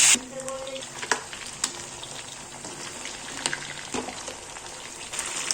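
Chicken pieces frying in hot oil in a pan for pulao, a loud continuous sizzle close by, broken by sharper crackles and spatters as the pieces are stirred.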